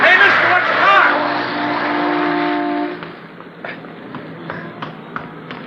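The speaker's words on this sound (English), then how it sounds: "I thought sure you were going to get hit by that car." A car nearly strikes a man in a busy 1953 city street in a radio crime drama. A loud engine roars close by for about three seconds, then quick footsteps and taps follow.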